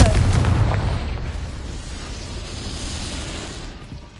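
A Confringo blasting curse detonates in Hogwarts Legacy on PS5, a loud booming burst at the start that rumbles and decays into a long, fading tail.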